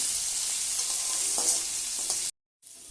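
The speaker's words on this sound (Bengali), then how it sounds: "এবারে আলুগুলোকে নেড়েচেড়ে নিয়ে হালকা ব্রাউন কালার করে ভেজে নেব।" Potatoes fry with a loud, dense sizzle in hot oil while a utensil stirs them through the pan, the crackle close and continuous before a brief cut near the end.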